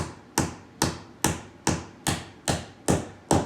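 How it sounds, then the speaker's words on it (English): A small hammer taps a wooden leg into a wooden animal-shaped workshop piece, eight evenly spaced, sharp knocks about half a second apart, close and clear with brief ringing decays. "I'd suggest just getting a little hammer and just give it a gentle tap like this."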